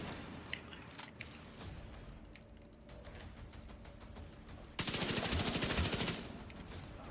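Enemy MG gunner fires a machine gun in The Division 2, a loud, rapid sustained burst lasting about a second amid quieter game ambience and scattered clicks and shots, with no voices.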